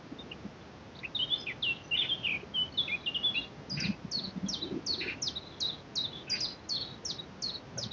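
A magpie calls from some distance in the open countryside, its harsh chattering bursts repeating in quick runs among other small birds tweeting, with a low rumble of wind or distant noise beneath.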